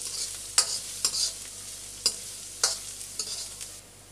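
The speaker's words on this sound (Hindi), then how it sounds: "अब हम इसके अंदर डालेंगे बारीक कटे हुए प्याज। और अब हम इसे ब्राउन करेंगे।" Finely chopped onions fry in a pan until brown, a steady soft sizzle broken by several sharp stirring scrapes spaced through the moment, close and fairly quiet.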